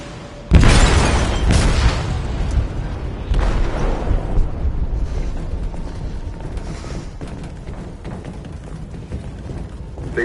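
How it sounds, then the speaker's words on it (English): A heavy explosion rips through the hold of a sinking ship in a video game, a loud booming blast followed by a long rumbling, creaking roar of wreckage and mechanical noise that slowly fades. "They detonated an explosive in the hold."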